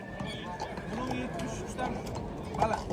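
Horses' hooves clip-clop on hard ground amid a horse market crowd's murmur, with people talking nearby.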